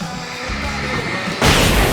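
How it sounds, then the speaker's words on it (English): Fireworks going off in the video game Alan Wake, a loud sustained rumble that gives way to a sudden broad crackling burst. "I can set off more of the fireworks from here and help you out!"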